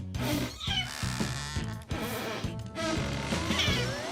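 A cat meows repeatedly, several drawn-out, plaintive calls close by, separated by short pauses, with some faint background noise.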